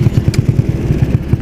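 A Honda Supra motorcycle with a new quiet exhaust muffler idles close by, a rounded bassy burble of steady rhythmic low pulses with one faint clatter in the middle.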